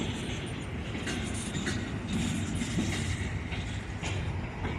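Union Pacific train with six engines rolling past, a loud, steady rumble of wheels and cars with faint rhythmic clatter and brief squeaks, close and continuous under an overcast sky.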